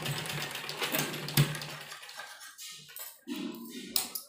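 A sewing machine stitches a kitchen apron, running in a close, continuous whirring burst for about two seconds before stopping, followed by quieter handling clicks and taps.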